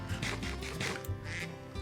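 A Minecraft duck gives a few quick nasal quacks in a row, fairly close and alone with no talk over it.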